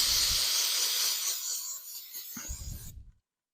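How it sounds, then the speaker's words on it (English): Parts cleaner spraying and washing Buick Skylark starter bolts, a hissing rush of liquid that fades into clinking and rattling of the small bolts before stopping abruptly. "I'm going to have to put these in the parts cleaner"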